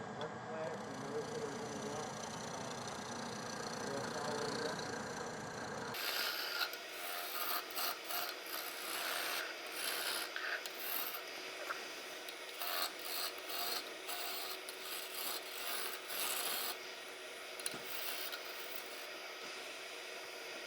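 Sandpaper rubbing a spinning wooden French rolling pin on a lathe, a rasping, scratchy friction sound in uneven bursts, close and moderately loud, with the lathe's hum underneath at first.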